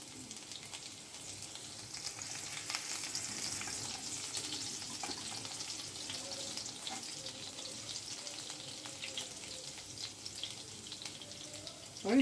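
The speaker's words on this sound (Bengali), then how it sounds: "গ্যাসে তেল বসিয়ে দিয়েছি, তেলটা গরম হয়ে গেছে। এবার আমি দিয়ে দেবো রসুন কুচি, রসুন কুচি, কাঁচা লঙ্কা কুচি সব দিয়ে দেবো।" Chopped garlic and green chilli frying in hot oil on a gas stove, a steady close sizzle and crackle that holds evenly throughout with light stirring scrapes and no voices.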